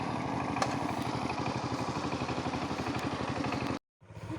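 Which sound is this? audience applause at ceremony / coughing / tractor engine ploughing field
tractor engine ploughing field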